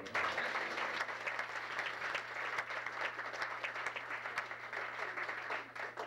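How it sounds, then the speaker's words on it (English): Dense, steady applause from an audience at a live jazz night, sustained for about six seconds with a faint low hum underneath and no speech over it. "Let's give them a round of applause."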